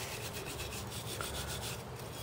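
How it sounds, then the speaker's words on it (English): A wire brush scrubs back and forth over rusty old metal relics, a close, continuous harsh scraping and rubbing with a steady repetitive stroke rhythm and no voices. "I simply used this brush, and I pretty much use this brush, this wire brush, to do all the cleaning."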